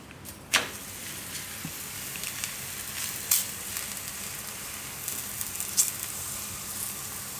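A Gujarati jeera paratha roasts in oil on a pan with a steady, soft sizzle, and a few sharp crackles and pops break through now and then.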